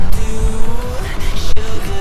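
Honda car exhaust revving hard and loud at close range, a rough, rapid engine growl with sharp pitch swings and crackles over about two seconds.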